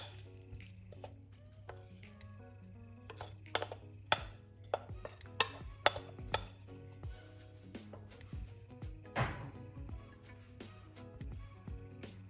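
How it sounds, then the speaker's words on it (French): Squash strands are gently stirred in a frying pan for a pasta-free carbonara, a soft sizzle under repeated light clinks and scrapes of the utensil against the pan. "Mélangez délicatement."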